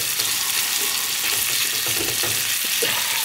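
Food keeps frying in a pan with the stove turned off, giving a steady, close hiss of crackling oil with a few soft pops, and no voices.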